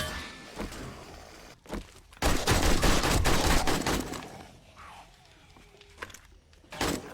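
Gunfire rattles in the survival game 7 Days to Die: a couple of sharp single shots, then a loud sustained burst of rapid fire, a quieter lull, and one last shot near the end.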